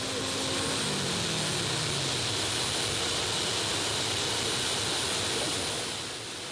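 Tractor pulling turbine engines on a 4.5-ton class puller at a Eurocup event in Herning, Denmark, winding up into a loud, continuous roaring whine with a rising tone early, steady and broadband throughout, easing slightly at the end.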